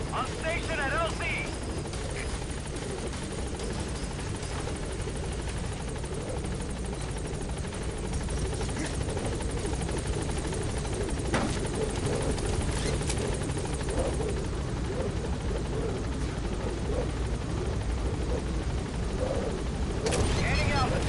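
In the Metal Gear Solid V video game, a helicopter's rotor drone and whine roll on steadily as it arrives at a landing zone, mixed under game radio chatter and a few sharp sound effects.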